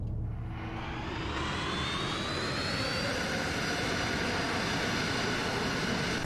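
A video game helicopter roars steadily and loudly, its broad engine and rotor noise filling the whole stretch without letup or pause.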